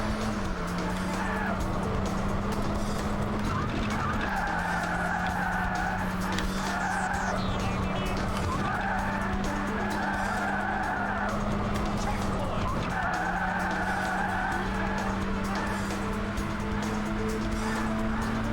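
A car in the racing video game Burnout drifts with sustained tire skid squeal over a steady engine drone, loud and continuous, the screech rising and fading in repeated long swells.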